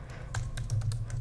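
Rapid keystrokes on a computer keyboard as a command is typed in for running an Ansible playbook, a quick run of close, crisp clicks over a low steady hum.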